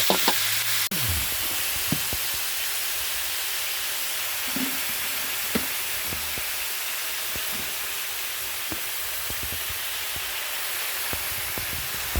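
Bean sprouts and tofu stir-frying in a pan, a steady bright sizzle with occasional scrapes and knocks of the utensil, close and continuous with no talking.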